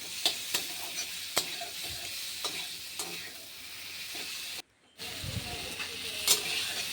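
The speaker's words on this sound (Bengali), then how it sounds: "এদিকে যে পটল আলু মশলা দিয়ে ভাজা ভাজা করছি।" Pointed gourd and potato fry with spices in a pan, a steady sizzling hiss broken by sharp stirring scrapes and clicks, close and fairly loud, with one brief dropout midway.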